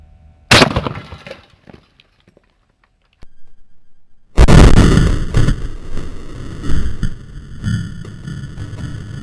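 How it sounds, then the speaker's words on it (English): A 12 gauge PolyShok shotgun round fired into an armor vest fixed to a 2-inch concrete block: one sharp, loud blast followed by quieter sounds, then a long, loud burst of debris and crashing noise. "We'll now fire the PolyShok round into the vest and let you see the results."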